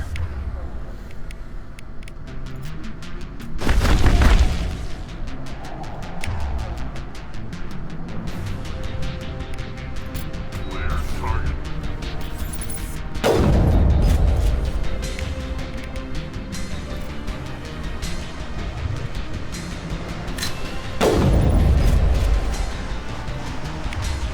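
Cannon blasts from a Mass Effect battle boom out three times, spaced several seconds apart, each a heavy burst that rumbles away over steady game ambience.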